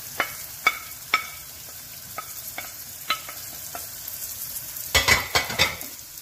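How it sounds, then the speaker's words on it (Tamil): Tinned fish stirred into a frying chilli curry with beans in a pan, a steady sizzle punctuated by regular spoon knocks against the pan, quickening into a rapid cluster near the end. "டின் பிஷ் ஆட் பண்ணி போட்டு நாங்கள் இதை எல்லா துறையும் சேர்ந்து இதை நல்லா மிக்ஸ் பண்ண போகிறோம்"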